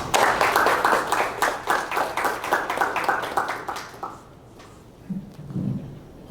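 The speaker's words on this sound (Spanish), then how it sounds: "merece un gran aplauso" An audience at a university biotechnology and patents lecture applauds to welcome the speaker, a few seconds of dense clapping that fades out, followed by faint brief voices.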